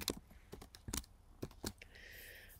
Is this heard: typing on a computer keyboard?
yes